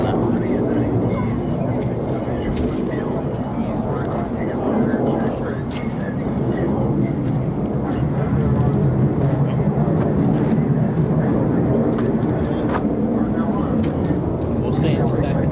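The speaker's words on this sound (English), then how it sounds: "F-35's has some sort of issue, or at least it's coming back already." An F-35 fighter jet heads back toward RAF Lakenheath, producing a continuous, loud, broad jet roar that swells slightly midway, with a voice talking over it.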